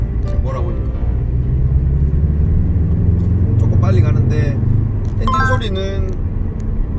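A Jaguar F-Type's engine accelerating through city streets, a low steady rumble rising in revs inside the cabin, running beneath someone speaking.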